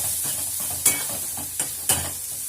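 Onion and chopped jhimni sizzle steadily in a hot pan, with three sharp scrapes of a spoon stirring them at intervals, close and clear and with no voices.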